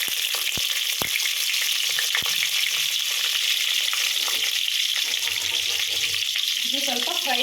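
Green chilies and a bay leaf sizzle steadily in hot oil for a village-style chicken sambar, a dense continuous frying hiss with a few sharp pops and low stirring clatter.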